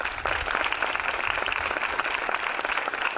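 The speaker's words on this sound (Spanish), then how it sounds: "para la que pido un fuerte aplauso" A crowd at a neighbourhood fiesta opening speech in Los Espinales applauds the Virgin of the Light, a loud, dense and continuous burst of clapping with no voices.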